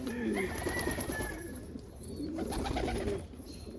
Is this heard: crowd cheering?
no